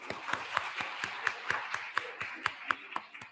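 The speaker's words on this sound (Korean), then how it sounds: "자, 우리 어르신들께 감사의 마음으로 박수하겠습니다." A church congregation at a Sunday morning service claps in a steady, evenly spaced rhythm, the sharp hand claps standing out clearly against a quiet room.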